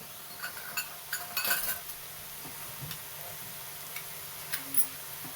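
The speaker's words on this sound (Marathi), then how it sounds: "मी हिरवी मिरची टाकून घेते" Green chilies frying in oil in a pan for kardai bhaji, a steady low sizzle with scattered metallic clinks of a spoon against the pan, close and unaccompanied by talk.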